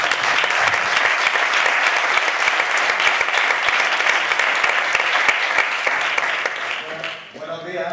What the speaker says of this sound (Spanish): Un aplauso a Emilio, ¿no?